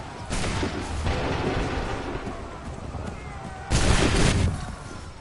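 Musket volleys crack out in Assassin's Creed III, a sustained burst of booming gunfire near the start, then a second louder volley toward the end, with shouted commands in the mix.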